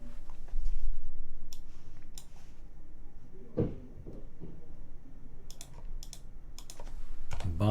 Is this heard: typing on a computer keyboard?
yes